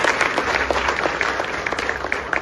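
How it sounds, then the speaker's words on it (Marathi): Audience clapping at a political rally gathering in Pune, a dense, steady wash of many hands applauding close by for the whole stretch, with no talking over it. "त्याबद्दल जोरदार टाळ्या वाजवून त्यांचं अभिनंदन करावं."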